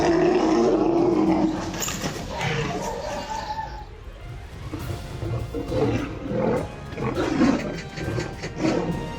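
A lion and a tiger fight, with loud, close roars and snarls layered over one another, a dense burst early on, then a brief lull before the growling and roaring rises again.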